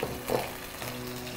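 Onion paste frying in a pan, a soft continuous sizzle with a brief louder stir or scrape near the start, fairly quiet and close with no talk.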